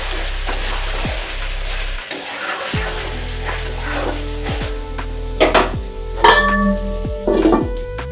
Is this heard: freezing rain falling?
no